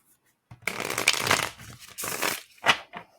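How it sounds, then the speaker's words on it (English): Tarot cards being shuffled by hand, a few close, crisp riffling bursts with brief gaps between them, no talk over the sound. "One more shuffle."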